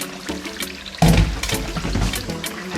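Strained chicken stock pours into a chicken ribs stew, a close liquid splash and gurgle that surges loudly after a quieter start and continues steadily with no talk.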